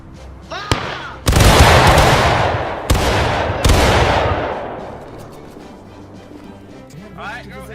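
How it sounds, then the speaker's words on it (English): Musket volleys in the Civil War video game War of Rights, with three loud, close, crashing volleys, each rolling off into a long echo, and shouted voices around them. "Company, firing by company!"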